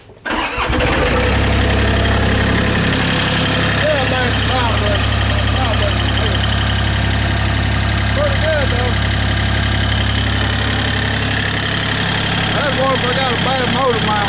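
A Mustang 930A skid steer's engine cranks, catches and settles into a loud, steady idle close by after an exhaust repair. A faint voice sits under the engine noise.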